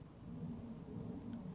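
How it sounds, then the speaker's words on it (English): A jet plane passing overhead makes a faint, steady low rumble outdoors, brief and continuous with no other sounds over it. "I think that's a plane."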